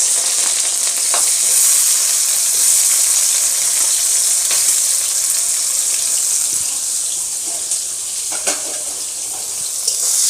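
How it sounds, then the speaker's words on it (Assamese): Chopped onions fry in oil with cloves, cardamom and cinnamon in a wok, giving a loud continuous hissing sizzle with occasional soft stirring clicks, close up and steady. "এয়া মোৰ পিঁয়াজখিনি ভজা হৈ গ'ল।"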